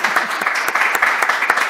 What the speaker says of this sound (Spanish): Yo vuelvo a pedir un aplauso para ella.